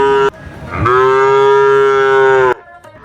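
A single cow lows at a cattle and goat market, giving one loud, close, sustained moo of about two seconds with a rough start.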